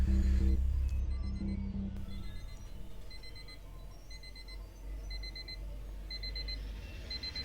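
An alarm clock rings in a video played back, steady repeated beeping bursts over a low background hum, with no talking.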